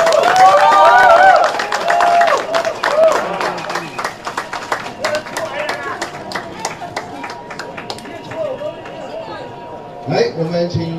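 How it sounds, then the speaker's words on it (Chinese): Crowd applause greets presidential candidate Ko Wen-je and his running mate at a political campaign event, with scattered clapping running throughout under loud voices talking over it and fading toward the end. "我们掌声欢迎我们的总统柯文哲"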